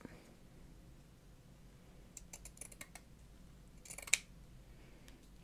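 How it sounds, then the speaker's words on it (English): Scissors snip a strip of green craft material in a home craft room; quiet, brief clicks and snips, with a sharper cut near the end. "I'm just going to cut me a strip."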